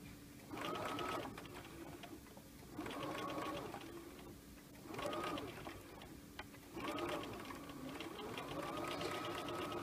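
A sewing machine stitching fabric in four separate bursts of whirring, each lasting about one to two seconds, with short pauses between them. It sounds fairly quiet and close, with faint background noise and no clear talking.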